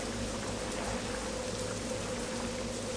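Rain falls steadily in the video game Morrowind (The Elder Scrolls 3), a dense, even hiss of drops that carries on unbroken and fairly loud with no voices.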